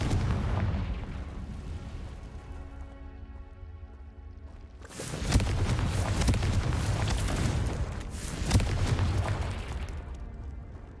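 A Confringo spell explodes in Hogwarts Legacy, a sudden loud blast that erupts midway through a steady low hum, followed by a roaring burst of fiery rumble with a second swell of impact a few seconds later.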